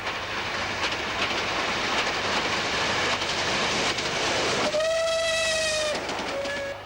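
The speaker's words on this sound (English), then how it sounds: "another rebuilt light Pacific, Boscastle, rushes towards the capital with a short express" Boscastle, a rebuilt light Pacific steam locomotive, rushes past with a short express on the Southwestern Main Line, a loud rolling rumble with rail clatter, then a clear whistle sounds twice near the end.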